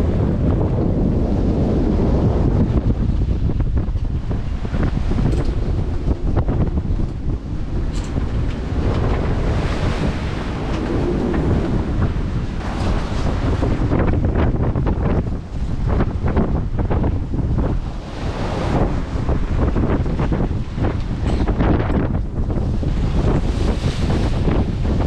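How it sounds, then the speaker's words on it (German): Strong headwind of over 30 knots roaring across a sailing boat at sea, with waves and surf crashing continuously; loud, buffeting wind noise on the microphone throughout and no talk. "Wir haben jetzt hier Wind jenseits der 30 Knoten gegen an."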